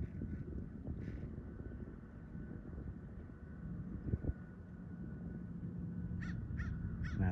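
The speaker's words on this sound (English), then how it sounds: "Not the crow." A crow caws outdoors near water, a few harsh calls early on and then a quick series of three or four caws near the end, moderately distant over a steady rumble of wind and a boat engine.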